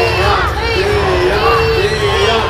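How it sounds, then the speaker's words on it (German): A crowd roars and cheers loudly at a knight tournament show, with shouting voices and whoops blending into a dense, continuous din close around. "Ja, das ist Applaus für Georg!"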